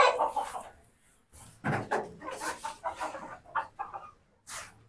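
Pakistani chickens on a farm cluck and squawk in irregular bursts, fairly close and moderately loud, with short pauses between clusters of calls and faint background noise.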